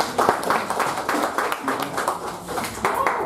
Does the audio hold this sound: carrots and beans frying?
no